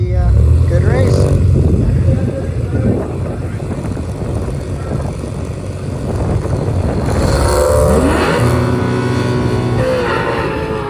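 A Grand Prix and a Fox body Mustang roar in a drag race final during Rocky Mountain race week. Loud engines rise and fall nearby, with a commentator talking over them.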